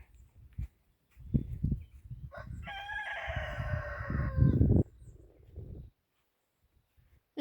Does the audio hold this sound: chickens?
yes